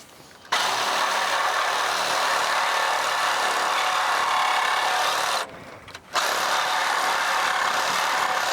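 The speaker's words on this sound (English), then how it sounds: "Let me get that Sawzall and cut this pipe off so we can lift it up out of the way" A Sawzall reciprocating saw cuts through a pipe on a 1947 International KB3 farm truck, a loud, steady buzzing rasp that stops briefly for a second or two and then resumes without talk.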